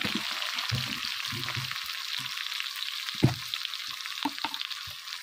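Potatoes and golden onions frying in a pan for a Bengali aubergine, spinach and bari sabzi, a steady close sizzle broken by scraping stirs and clinks of the spoon, with no talking.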